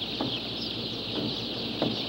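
Masses of newly hatched female baby chicks peep continuously at a hatchery, a dense, shrill chorus filling the space close by, with no talk.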